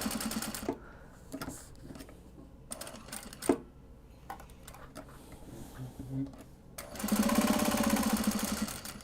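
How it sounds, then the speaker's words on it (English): A sewing machine stitches a strip of Velcro onto a Japanese fabric drawstring bag with black thread, giving short bursts of rapid stitching and a few clicks, then a longer steady run of stitching near the end. "we're going to sew this piece of Velcro on with black thread"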